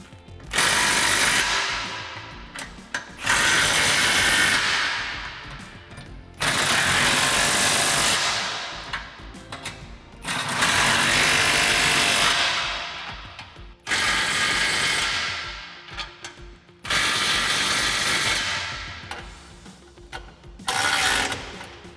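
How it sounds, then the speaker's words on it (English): Sockets, 15mm on the clamps and 13mm on the rear hangers, tighten the exhaust of a 2015-2022 Mustang fitted with a Roush cut-and-clamp resonator delete X-pipe. Six loud, long bursts of harsh whirring tool noise repeat with short pauses between. "use our 15mm socket and tighten all the clamps, and our 13mm socket to tighten up the hangers in the rear."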